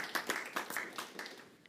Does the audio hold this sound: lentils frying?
no